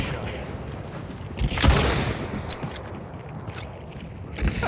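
Video game gunfire sounds as a few sharp shots over a constant rumbling game background, with one loud burst near the middle and fainter cracks later.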